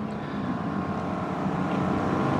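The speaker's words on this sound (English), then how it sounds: "As he puts his foot down, eventually shifting into second gear for the slalom." A Honda S2000 accelerating hard on an autocross course and shifting into second gear for the slalom, a steady loud engine roar with wind rush that holds for a couple of seconds without any voices.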